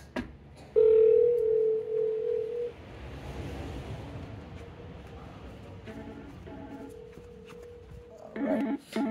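Steady dial tone from an IP phone on a FreePBX system before calling an extension, a loud continuous tone lasting about two seconds, followed by quieter handling noise and short dialing beeps near the end.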